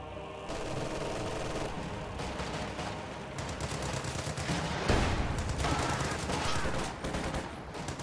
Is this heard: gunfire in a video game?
yes